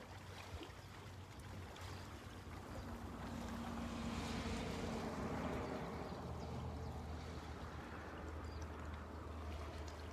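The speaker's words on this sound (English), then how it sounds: "Can you hear the water?" Water sloshes and laps softly at a hard shore, steady and fairly quiet beneath a broad wash of wind noise and low rumble.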